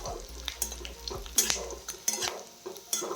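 Onion fries in oil over a low flame while a spoon stirs and scrapes against the pan in several distinct strokes over a soft sizzle.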